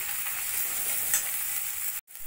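Spice paste of turmeric, cumin, chili powder and ginger-garlic fries in oil, a close, steady sizzle with faint stirring scrapes that cuts off abruptly near the end.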